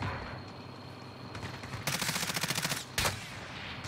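Rapid gunfire in the Warzone video game, with bursts of fast cracking shots that run together for about a second, then one more short loud volley, over low ambient game noise.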